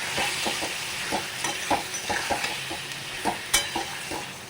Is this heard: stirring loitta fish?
yes